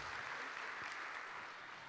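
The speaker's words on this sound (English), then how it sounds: "can we all just give a huge round of applause to all the Meetup organizers in the world" Audience applause for meetup organizers at a JavaScript conference, a steady wash of many hands clapping that holds loud and even throughout without voices.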